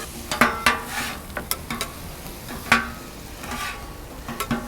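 Meat and onions fry on a griddle for Philly cheesesteak sloppy joes, with a steady sizzle broken by sharp scraping and clacking strokes of a spatula stirring the mixture, close up and with no talk.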